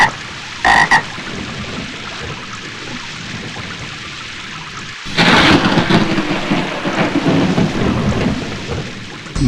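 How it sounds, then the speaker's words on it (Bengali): Thunder crashes loudly during a rainstorm, a short sharp burst early on and then a heavy rolling peal from the middle onward, over steady rain with frogs croaking. "বিদ্যুৎ ঝলকানির পরই কেন বজ্রপাত হয়?"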